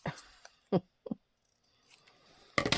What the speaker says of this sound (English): I'll trim that down.